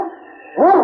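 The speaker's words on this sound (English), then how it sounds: "It's Yukon King, swiftest and strongest lead dog of the Northwest" Sled dog barking in a 1950 Challenge of the Yukon radio drama, a single short bark rising out of a brief musical tone, close and clear.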